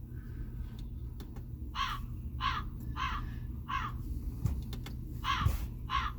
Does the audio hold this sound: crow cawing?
yes